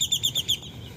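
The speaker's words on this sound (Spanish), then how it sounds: "Y aquí hay muchos pájaros." Birds in a shady park chirp in a quick run of four or five bright, high tweets, faint and close together, with no voices.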